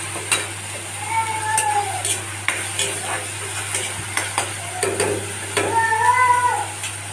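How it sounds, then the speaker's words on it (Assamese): Spices are fried in a pan with a soft sizzle and spoon scrapes. A cat meows in short bursts, and faint background voices are heard. "এয়া অলপ ভাজি ল'ম"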